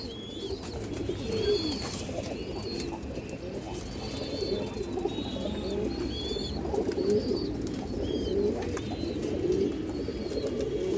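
Domestic high-quality pigeons cooing repeatedly in low rolling phrases close by, with occasional chirps and wing rustles in a steady loft ambience and no talking.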